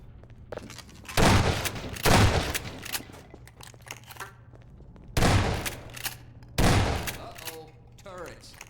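Automated turrets firing in Half-Life 2, four loud bursts of rapid gunfire separated by quieter gaps, with in-game sounds between the volleys.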